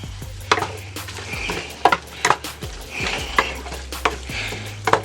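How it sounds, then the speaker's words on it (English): Pre-made Prego meat sauce being stirred in a pot, a spoon scraping and clacking against the sides in irregular strokes over a soft simmering sizzle and a low hum, close and without speech. "Stir that up a little bit."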